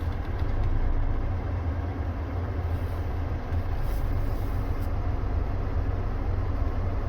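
A 2022 Nissan Sentra SV Premium reversing, its engine giving a steady low hum with constant broadband road and cabin noise and no distinct events.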